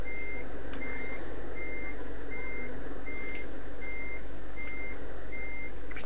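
Truck reversing alarm in Euro Truck Simulator 2, a steady series of evenly spaced beeps over constant engine rumble, clear and loud with no talk.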